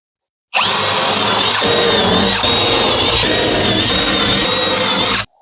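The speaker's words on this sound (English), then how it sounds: "Drill through the back on this." A power drill bores through wood up close, a loud, steady high whine starting abruptly and holding for about five seconds with slight load changes, then cutting off.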